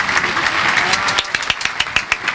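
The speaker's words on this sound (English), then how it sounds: "I'll give you another round of applause" A round of applause from a small gathering at a community celebration weekend, steady mid-level clapping with sharper individual claps standing out toward the end, brief and fairly close.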